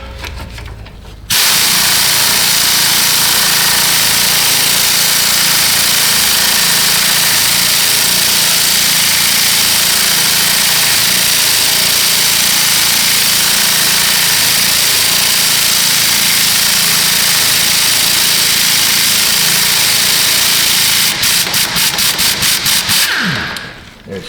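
A Honda Odyssey with a broken spring and bad axle runs with its engine working in reverse, giving a loud, steady, rough roar close by for about twenty seconds, then clicking near the end before it cuts off.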